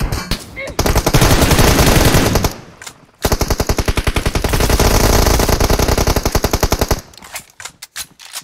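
Automatic weapon fire in the mobile battle royale game PUBG Mobile on the Erangel map: long loud rapid bursts, a clear pause near the middle, then another extended burst, tapering off toward quieter sounds at the end.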